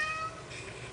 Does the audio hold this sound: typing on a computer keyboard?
no